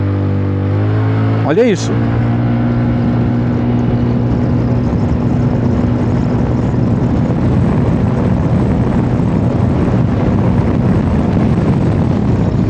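A Zontes 368G motorcycle fitted with a Malossi kit and full remap drones close by, snapping through one sharp rev that climbs and falls early on, then settles into a continuous rumble; someone speaks briefly.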